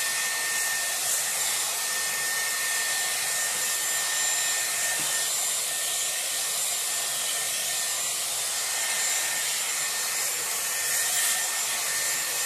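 Dyson Airwrap blowing hair dry with a round brush during a salon blowdry, a loud, steady, close airflow roar with faint brushing and rubbing textures throughout.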